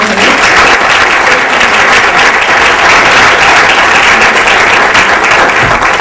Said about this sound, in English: Can you all join me in giving another round of applause to Dr. Osotimehin?